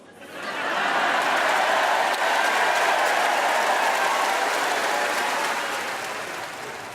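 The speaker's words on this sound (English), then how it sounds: "a lot of people clapped that" A large party conference audience applauds a speech, a loud, sustained roar of clapping that rises quickly and holds steady for several seconds before easing slightly, with no talking over it.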